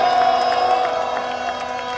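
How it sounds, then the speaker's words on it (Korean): A crowd at an outdoor impeachment rally in Suwon cheers and claps in a brief burst, shouts and whoops over a steady tonal hum. "열심히 싸워주시라고 다시 한번 큰 박수 부탁드리겠습니다"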